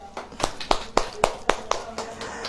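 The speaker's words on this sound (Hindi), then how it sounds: "ताली हो जाए।" A congregation at a church service claps in a steady rhythm, about eight sharp, close claps in a row.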